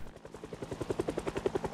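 Helicopter in the video game Project Zomboid passing directly overhead, a rapid rotor chop that pulses steadily and grows louder over the short stretch, with no talk.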